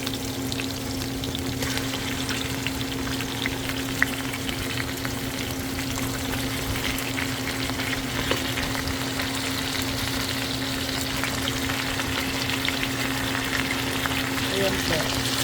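Chicken pieces go into a pan of sautéed tinola base and fry with a steady, close sizzle and crackle that carries on unbroken throughout, with a low hum underneath and no talking.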